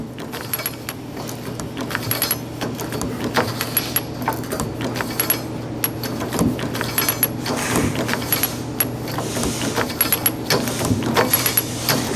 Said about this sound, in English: You can hear that clicker clicking.